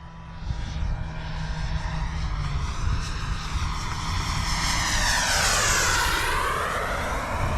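An RC model airplane, a Delta 40 or Piranha PNP, flies in to land, its buzzing engine loud and steady, rising in pitch with a clear Doppler sweep as it passes close by.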